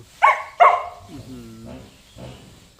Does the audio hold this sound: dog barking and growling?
yes